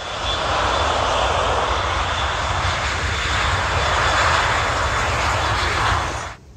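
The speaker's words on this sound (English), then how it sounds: "some of the planes taking off can be very loud" Airplanes taking off from a US air force base airport roar loudly and steadily, a broad rumbling engine noise holding for about six seconds before cutting off abruptly.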